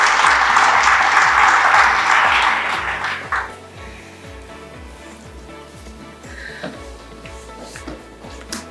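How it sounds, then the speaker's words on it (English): A graduation audience applauds the most improved secondary students, loud dense clapping for about three seconds that thins out into a few scattered claps and faint room noise. "they do deserve a round of applause"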